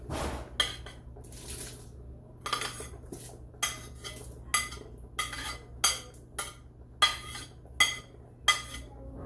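Chopped onions and bell peppers going into a gumbo pot, heard as a steady series of sharp metallic clinks of a utensil against the pot, roughly one per second, close and clear over a low background hum.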